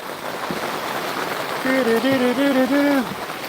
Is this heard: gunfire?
no